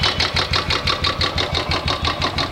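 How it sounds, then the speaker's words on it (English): A Royal Enfield Classic 350 motorcycle engine idles steadily after an oil change, its single-cylinder thump repeating in a fast, even rhythm, close and loud throughout. "Now keep the vehicle running for about 5 to 10 minutes"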